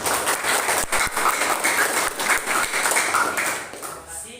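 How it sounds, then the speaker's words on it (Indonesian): Classroom applause for a student who has just finished presenting, a loud burst of many hands clapping together that runs for a few seconds and then tapers off, with some voices mixed in. "Coba kasih tepuk tangan dulu untuk kawan kita ini"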